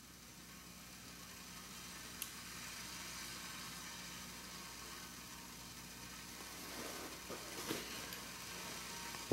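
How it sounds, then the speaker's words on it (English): A stainless steel DIY alcohol stove heats a pot of four cups of water that is just beginning to sizzle, giving a steady, close broadband hiss throughout, with a couple of brief clicks near the end. "Really starting to sizzle."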